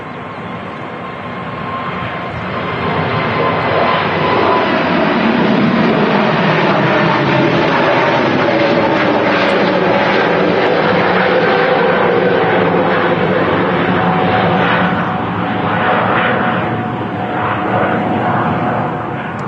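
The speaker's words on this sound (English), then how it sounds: "Lufthansa A320 Neo, flight 943 to Frankfurt." Lufthansa A320neo airliner on flight 943 to Frankfurt at Manchester Airport, a sustained loud jet roar that swells in over the first seconds, holds strong with a tonal whine, then eases slightly.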